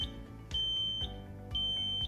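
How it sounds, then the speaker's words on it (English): A household smoke alarm gives two sharp, high-pitched electronic beeps about a second apart, loud and close over a low background hum. "This is a smoke alarm."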